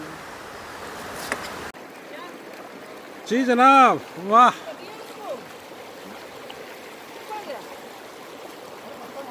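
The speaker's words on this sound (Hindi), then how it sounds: "और पानी की आवाज़ देखिए आप, कितनी शानदार आवाज़ आ रही है।" The Choral River near Indore rushes in a continuous, steady wash of flowing water heard close by, while a couple of voices briefly exclaim over it.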